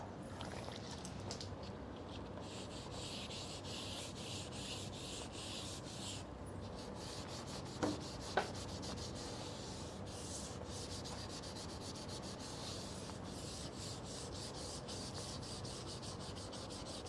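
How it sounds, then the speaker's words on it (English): Continuous rhythmic rubbing and scraping of sandpaper on a surface, close and steady throughout, with a couple of brief knocks midway. "if you're wet sanding, don't just wet sand on one position like that"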